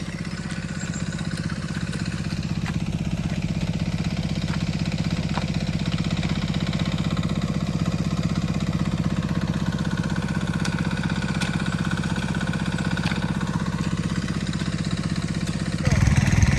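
A big tractor works a paddy field, puddling mud for rice transplanting, its engine droning in a steady, loud, continuous rumble that swells slightly near the end.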